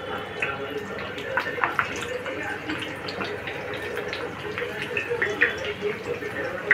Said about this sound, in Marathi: आता तेल तापलंय, मी एक एक कटलेट तेलात सोडते।